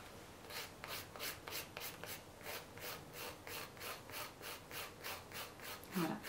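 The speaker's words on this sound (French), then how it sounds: "en suivant bien la courbe du doigt pour ne pas limer votre ongle à plat" A nail file rasps gently back and forth across a fingernail, following the curve of the finger, in soft, even strokes about two per second, quiet and close.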